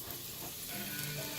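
Garlic sizzling in olive oil in a pan, a dense steady crackling hiss, close and even throughout with a faint stir.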